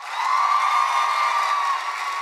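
Convention panel audience at Comic Con cheering and whooping, a sustained roar of crowd voices with a clear tonal shout riding on top, loud and steady throughout.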